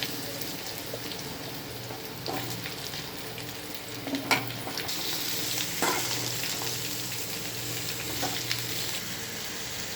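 Mango pieces sizzle and fry in a pan with dried red chillies, a soft steady crackle with occasional scraping clicks of stirring.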